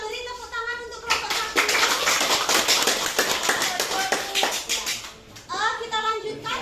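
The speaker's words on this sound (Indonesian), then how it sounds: "Kita beri tepuk tangan untuk kelompok" A classroom group claps for presenting students. Several seconds of brisk, crisp hand claps sit between stretches of talking voices, including children's voices at the start and end.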